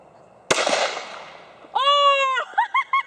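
A single sharp, loud crack from a Glock 23 .40 caliber pistol fired at a target 100 feet away, ringing out and decaying, followed by a voice.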